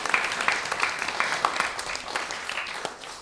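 Applause fills a temple hall as the audience claps together, a moderately loud, uneven patter of many hands with individual claps popping out here and there.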